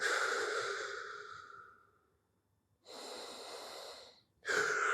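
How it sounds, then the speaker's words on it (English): Deep, slow breaths taken while holding a belt-assisted leg stretch during a jiujitsu mobility routine: a long airy exhale fading out, a pause, then another breath and a sharp start of a third, close and clear. "Couple more deep breaths."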